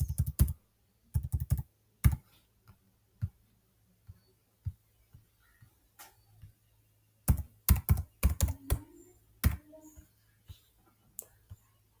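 Keys on a computer keyboard tapped in short bursts and single clicks while entering a payment amount, close and crisp with gaps of quiet between strokes.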